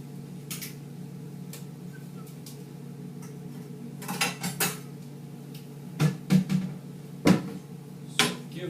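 Metal pan clanks and knocks several times in a kitchen while a roux is started, a few sharp close taps and clatters in the second half over a faint steady hum, no talking.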